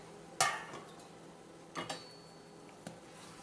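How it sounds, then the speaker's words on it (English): A spoon stirs thick dal dhokli in a pot in a few short bursts, with soft scraping and clinks against the metal. Each burst is brief and close, with quiet pauses between them. "now let's stir it"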